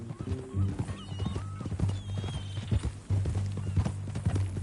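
Rhythmic horse hooves clip-clop steadily at close range over a low droning background, with an occasional faint whinny, in the video game Red Dead Redemption 2.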